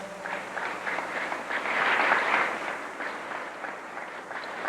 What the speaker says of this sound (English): Sister Aurelia Muhammad, give her a warm round of applause